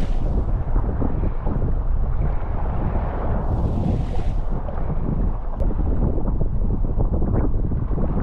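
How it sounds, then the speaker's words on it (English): Steady wind buffets the microphone as a kayak drifts along Loch Sween toward Tayvallich, a continuous broadband rush with faint water splashes, loud and close throughout with no talking. "just the wind blowing me along"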